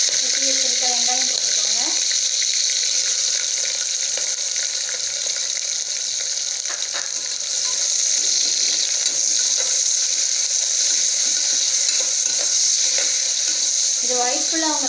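Chili and onion frying in a pan for white pulao, a strong steady sizzle filling the whole stretch, with faint voices at the start and end.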